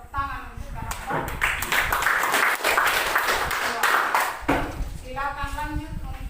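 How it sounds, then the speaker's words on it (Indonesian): Applause breaks out during a classroom teaching-practice lesson as a class claps for a story character. It is a dense, steady patter of hands lasting a few seconds, with voices around it. "tepuk tangan untuk karakter"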